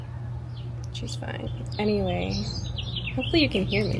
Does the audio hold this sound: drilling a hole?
no